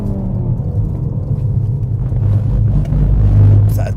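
A Ford Focus ST drives hard on a slightly greasy race track, its engine giving a loud, steady rumbling drone that swells as it accelerates toward the end.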